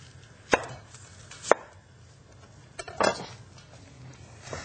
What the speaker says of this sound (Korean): 양파가 이렇게 썰이면 돼